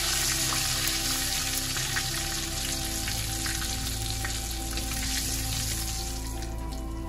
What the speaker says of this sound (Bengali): এবার আমি এর মধ্যে দেবো গোটা জিরে আর তেজপাতা ফোড়নে,